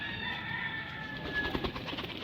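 Pigeons coo softly nearby, low throaty burbles repeating over a faint background hum, with a brief rustle near the end.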